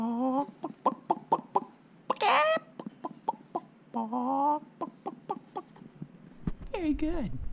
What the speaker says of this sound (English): Chicken. Chicken, very good.